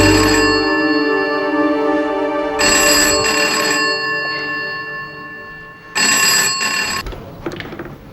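A telephone rings loudly and close by in repeated bursts of bright electronic trilling, with pauses between rings and a quieter tail at the end, with no voices.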